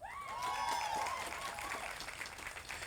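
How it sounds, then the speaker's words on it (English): Crowd applause for a speaker at an outdoor domestic violence awareness walk, fairly faint and distant, with a high whistle or cheer rising over the clapping early on. "So give Dr. Jennifer Martin Green a round of applause."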